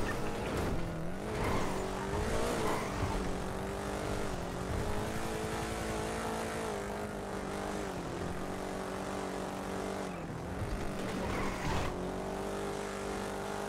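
Car engine in GTA droning steadily and shifting pitch as it accelerates and eases off, with continuous road noise and no talking.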